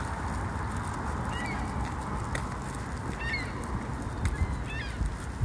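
Distant geese honk in a few short bursts over a steady low outdoor rumble, faint and spread out across the recording.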